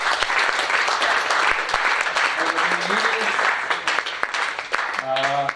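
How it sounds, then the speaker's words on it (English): A crowd applauds steadily and loudly throughout, with a few voices calling out over the clapping. "So, round of applause for Dick Dallas"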